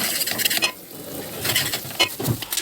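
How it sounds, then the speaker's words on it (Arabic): Boiled sweet potatoes are mashed by hand with a utensil, giving close, irregular squelching and scraping strokes against the pot or bowl. "ودي البطاطا بعد ما اتسلقت، فانا هرسها كده بالشكل ده"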